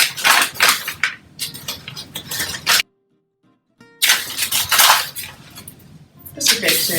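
A spoon scoops sugar into a mixing bowl for herb bread dough, with bursts of clinking and scraping against the bowl, close and fairly loud, broken by a brief silent gap midway.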